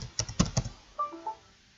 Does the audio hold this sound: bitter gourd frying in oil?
no